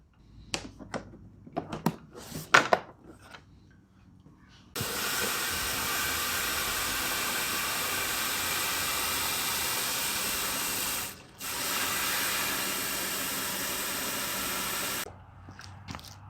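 SprayMate Tornado battery-powered sprayer with an adjustable nozzle tip at 40 psi, a steady hissing spray running for about ten seconds with a short break, after a few handling clicks and taps.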